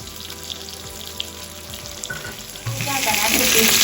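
Surmai (kingfish) pieces fry in a pan with a steady oily sizzle. The hiss grows louder and denser toward the end, and a few soft clinks of cookware come through.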